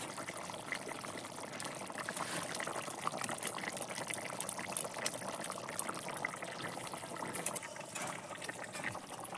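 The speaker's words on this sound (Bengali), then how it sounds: "এই যে ঝোল ফুটে গেছে" Egg curry gravy simmers on a wood-fired clay stove with a faint, even bubbling hiss that stays steady throughout, with no talk over it.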